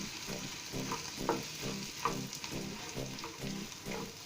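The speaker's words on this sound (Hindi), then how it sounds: "कंटिन्यूस इसे चलाते रहिए आप हलवे को, इसी तरह।" A spoon stirring sweet potato halwa in a pan, rhythmic scraping strokes repeating about twice a second over a soft, steady sizzle of the mashed potato cooking, close and fairly quiet with no talking.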